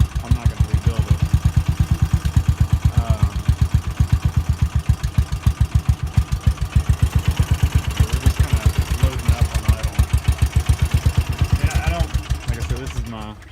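Kawasaki Mule 610 utility vehicle engine idling unevenly, prone to flooding at idle, with a steady close-up chugging pulse of low firing beats throughout and no talk.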